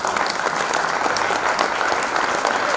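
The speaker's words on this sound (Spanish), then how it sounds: "Un aplauso para Asier." Audience applause at an honorary members ceremony of an accordion symphony orchestra in Bilbao, a steady, dense clapping from a crowd in a hall, continuous and fairly close, with no speech over it.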